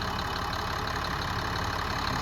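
International MaxxForce DT 7.6 liter diesel idling in a 2011 International PB105 short school bus, a steady, close, loud rumble with an even knocking chatter.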